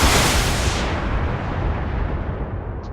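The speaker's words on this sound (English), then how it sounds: "So we blew up some SRM ammo there, I think." A short-range missile ammunition explosion inside a mech in the BattleTech video game, heard as a loud, broadband boom with rumbling low end that decays slowly over three seconds with no talk.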